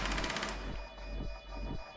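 Rapid bursts of gunfire ring out during a bomb-defusal match in a shooter game, a few loud cracks at the start followed by repeated thuds roughly every half second, with no talking.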